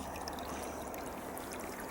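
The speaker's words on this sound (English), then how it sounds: "As you can see, the water is flowing" Water running through a narrow stream in grassy ground near a road, a steady soft trickling and gurgling, close and continuous for a brief moment.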